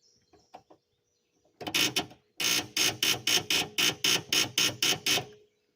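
A vehicle engine starter failing to crank gives a loud, close, rapid series of mechanical clunks, about a dozen evenly spaced grinding clicks after a brief first attempt, with no engine catching.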